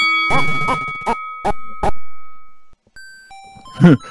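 Boxing ring bell in the Mike Tyson's Punch-Out video game, a series of five sharp electronic dings with ringing tails, followed by other synthesized game tones.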